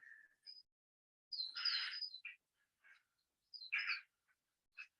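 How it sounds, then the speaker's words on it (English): Crows calling in the early morning outdoors, several harsh bird calls in short bursts at moderate distance, with quieter chirps between and no talk. "There's those crows again."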